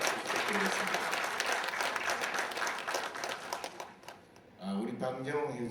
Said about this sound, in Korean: 내빈께서는 진심으로 큰 축하의 박수 부탁드리겠습니다